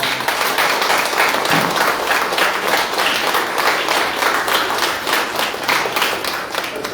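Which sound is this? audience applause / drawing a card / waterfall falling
audience applause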